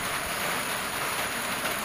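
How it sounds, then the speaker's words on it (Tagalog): Rain falls in a steady, dense hiss that goes on without a break and masks most other sound. No one speaks. "Oh, ulan na naman."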